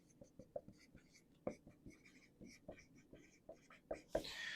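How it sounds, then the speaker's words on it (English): A pen scratches across paper in short, irregular strokes and taps, close and quiet, with a few sharper marks and a louder brushing sound near the end. "but just write Catherine the Great"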